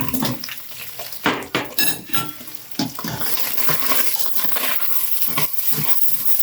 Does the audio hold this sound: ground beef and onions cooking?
yes